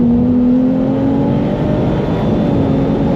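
Ferrari 296 GTS in race mode accelerating hard, a loud close engine roar with a strong rising tone climbing steadily through the gear, continuous and alone without talk.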